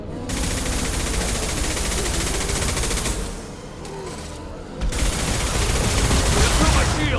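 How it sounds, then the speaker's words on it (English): A heavy weapon fires in the video game Mass Effect 2, a loud, sustained roar of rapid shots lasting several seconds. It dips briefly in the middle, then resumes at full strength. "Heavy weapon."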